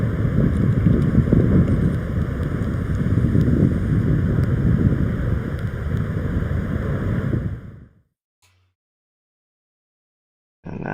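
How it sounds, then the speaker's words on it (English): Kīlauea eruption, gases forcing lava out with a loud continuous rushing, roaring surge and gurgling, which cuts off abruptly into silence before a brief return at the end. "Hear the gurgling and the rushing as the gases that are pushing the lava out."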